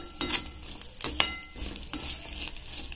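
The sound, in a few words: coconut being roasted in a pan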